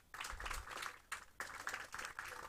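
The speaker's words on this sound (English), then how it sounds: "Let's give her one more round of applause" Applause from an audience at the Uspace launch event in San Ignacio: dense, steady clapping in several surging waves, fairly loud and close, with no talk over it.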